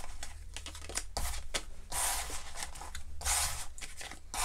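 Tarot cards are shuffled by hand over a mat in quick, crisp bursts of riffling and rubbing, close and fairly quiet, with short pauses between rounds.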